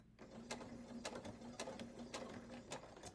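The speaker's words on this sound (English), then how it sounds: "And then back stitch." A sewing machine back stitches a quilted sunflower coaster, a quiet, close mechanical whir marked by regular sharp ticking clicks.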